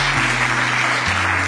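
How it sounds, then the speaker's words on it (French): An audience at a school supply distribution event applauding, a loud continuous burst of many hands clapping with a steady low hum running underneath. "Est-ce qu'on peut l'applaudir pour cette passion?"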